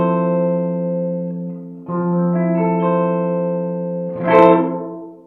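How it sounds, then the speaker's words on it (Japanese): Strymon BlueSky reverb pedal with low damp turned to maximum and high damp at zero, giving a sustained chord with a bass-heavy reverb tail; a fresh strum at about two seconds and a brighter, louder swell near the end, with no talking. "エフェクト音が低域の持ち上がった音になります。"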